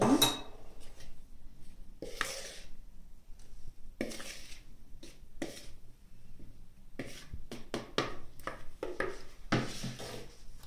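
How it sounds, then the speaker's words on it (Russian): A whisk working pancake batter for cottage-cheese-filled blini in a bowl after the last flour goes in, heard as close, irregular bursts of clinking and scraping against the bowl, with no one talking. "Так, продолжаем взбивать."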